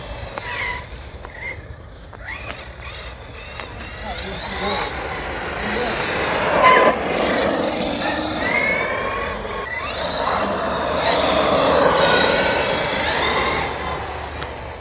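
An Arrma Kraton 4S RC car with aluminum steering runs nearby, its electric motor whining and rising and falling as it drives, with tire and gravel noise mixed in and people talking over it.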